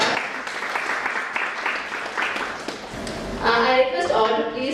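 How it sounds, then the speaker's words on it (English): Applause from members at a residential refresher course at a beach resort, starting as a thin patter under a talking voice and swelling into louder, fuller group clapping near the end. "I request all to give applause to him"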